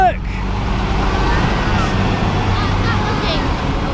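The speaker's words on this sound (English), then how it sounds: "Big truck." A big dump truck drives past at close range, its loud, heavy engine rumble and road roar sustained throughout, while people speak excitedly over it.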